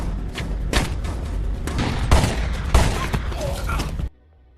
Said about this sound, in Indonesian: tiba-tiba kontak senjata pun pecah